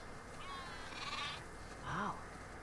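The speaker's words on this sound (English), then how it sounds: "Wow. That's a lot of sheep." Sheep bleat in The Last of Us Part 2, a flock on a snowy farm heard as two wavering cries, one thinner and one louder and nearer, over low ambient background.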